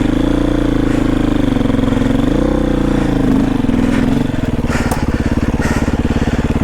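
Beta 500RR-S dirt bike engine chugging loudly up close as it rides slowly over rocks on a mountain road, a throbbing low-revving thump that eases slightly toward the end.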